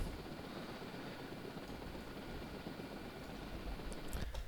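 Helicopter rotor and engine noise in the naval warfare game Dangerous Waters, a steady broadband whirring drone held throughout at moderate level, with no talk.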